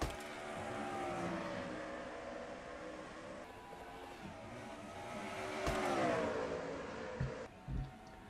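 Race cars roar around Dover under green flag on lap 13, a dense engine drone rising and falling as the pack passes at moderate distance, with a brief louder surge midway.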